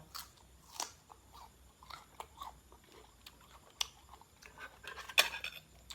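Biting and chewing spicy Thai raw shrimp salad (koi kung), close up: a series of soft crunchy bites and wet chewing, with one sharper, louder crunch near the end.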